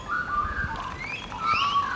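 A grey butcherbird gives a clear, fluting whistled song: several bright, sliding notes in two loose phrases over steady outdoor background noise, heard fairly close with no talking.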